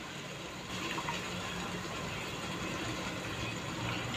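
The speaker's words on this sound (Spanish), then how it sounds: "le vamos a echar el agua" Steady stream of water poured into a pot of rice with carrot, a continuous close gushing fill that runs evenly for several seconds without talk.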